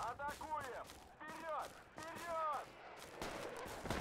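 Gunfire rattles in the tactical military shooter Project Reality during a squad firefight, with sharp shots scattered through the clip beneath radio-style voices talking.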